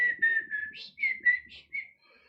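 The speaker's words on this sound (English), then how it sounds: "show you my whistling skills" A person whistles a wavering tune in short phrases of rising and falling notes, fairly close and moderately loud, with a brief soft pause near the end.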